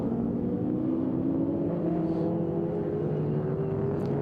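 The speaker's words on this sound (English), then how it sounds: "So 350 Chev in the Camaro versus 351 Windsor under the bonnet of the number 89 Mustang of Andrew Lane." Historic Group N touring cars racing at Winton, a 350 Chevrolet V8 Camaro and a 351 Windsor V8 Mustang, with a steady, droning engine note that rises slowly in pitch as the cars accelerate past at a moderate distance.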